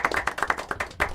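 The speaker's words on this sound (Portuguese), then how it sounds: "David Beckham, uma salva de palmas." A short run of about eight to ten distinct hand claps in a TV studio sports show, quick and uneven, with a slightly louder clap near the end.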